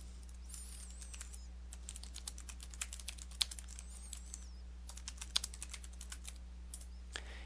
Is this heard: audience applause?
no